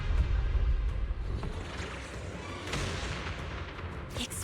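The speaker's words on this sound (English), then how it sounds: "The explosions are becoming more frequent." Deep booming explosions in the video game Zenless Zone Zero rumble under a dense roar of noise, with a few sharper blasts near the end.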